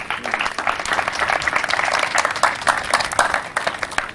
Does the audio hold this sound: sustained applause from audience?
yes